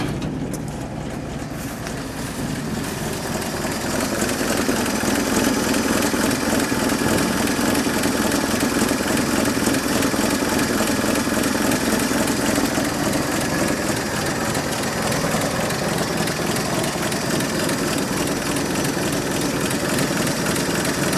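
A 1952 Chevy pickup truck engine idles steadily, a rough low rumble that starts a bit quieter and then holds constant and fairly loud throughout, with no talking.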